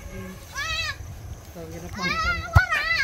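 Goats bleat repeatedly nearby on a farm, wavering cries overlapping with children's voices talking in the background and a sharp knock near the end.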